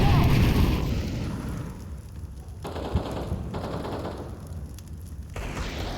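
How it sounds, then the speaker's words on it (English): Flashbang grenade going off in a first-person shooter match, heard as a dense roar of blasts and rapid gunfire followed by a sharp thump and rumbling bursts, with players calling out over the noise. "Throwing a flashbang!"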